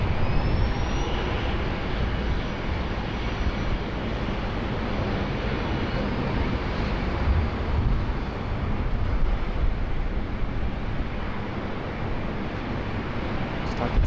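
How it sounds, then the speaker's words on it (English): A Qantas Airbus A330 airliner moves out of the maintenance area at Sydney Airport, a steady broad engine roar heard at a distance that holds evenly throughout with a faint whine near the start and no talk. "The Qantas 330 coming out of the maintenance area."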